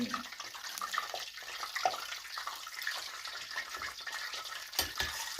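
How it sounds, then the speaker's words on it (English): Nigerian buns frying in hot oil give off a steady, fairly quiet hiss and bubbling sizzle that runs throughout, with a few louder crackles and no talking. "I will continue the process of frying"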